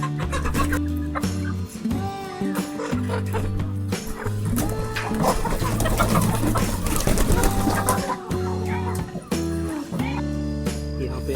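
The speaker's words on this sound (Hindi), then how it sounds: "सब्जी के अलावा मुर्गियाँ भी इन्होंने पाली" Chickens kept in a vegetable garden in Uttarakhand cluck and call repeatedly, close and fairly loud, with steady overlapping calls throughout and no talking.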